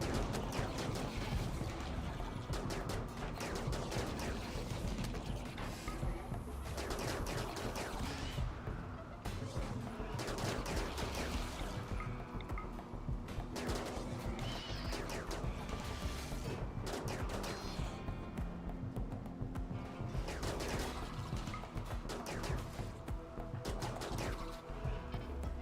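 Dense game combat in RimWorld, with turrets firing in rapid bursts amid crashes and other battle noise, loud and continuous throughout.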